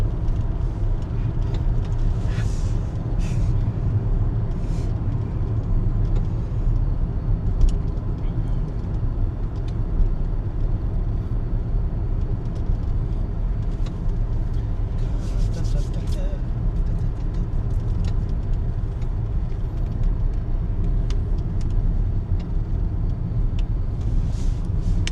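Low road rumble and engine drone fill a moving car's interior, constant and unbroken for the whole stretch, with people talking inside the cabin over it.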